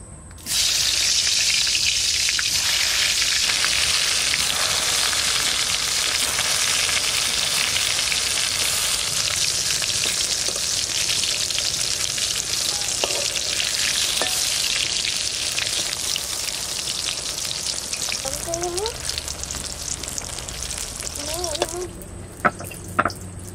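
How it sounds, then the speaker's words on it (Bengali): Eggplant slices coated in salt, turmeric and sugar fry in hot oil, giving a loud, continuous sizzle and crackle from start to finish, with a few light clinks and stirring sounds near the end. "এবার বেগুনটা ভাজবো।"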